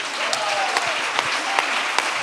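Audience applause at a Spanish-language Catholic talk during the Multifestival, steady crowd clapping filling the room for a couple of seconds without speech.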